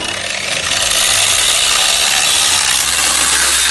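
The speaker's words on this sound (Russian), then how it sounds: "Болгарка Интерскол. Начинаем работу." An Interskol angle grinder with a new cutting disc bites into metal, a loud, harsh, continuous high-pitched whine and grind that builds within the first second and then holds steady.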